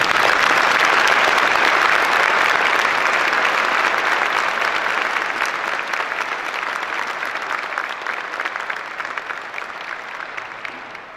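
Sustained applause from an audience at a naval air station change of command ceremony, honoring service members; thick, continuous clapping that starts full and slowly tapers in loudness over about eleven seconds.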